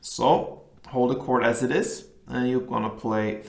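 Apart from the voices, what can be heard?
No everyday noise stands out behind the speech.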